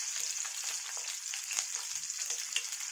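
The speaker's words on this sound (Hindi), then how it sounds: "तब हम इसमें 2 से 3 हरी मिर्च डाल देंगे।" Two or three green chillies fry in hot oil, giving a steady bright sizzle with faint crackles that continue evenly and close up, with no talking.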